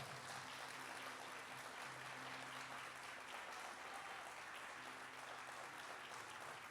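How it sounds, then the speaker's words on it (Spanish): Congregation in a church giving sustained, dense applause that fills the space evenly for several seconds, with faint voices mixed in underneath. "Denle un fuerte aplauso al Señor, porque ayer fue un día glorioso"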